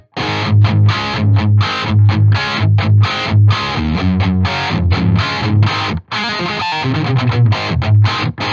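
Heavily distorted electric guitar through a Lichtlaerm Audio Prometheus amp in vintage mode plays a loud, close hard-rock riff of rhythmic palm-muted chugs and accented chords, with one short gap midway.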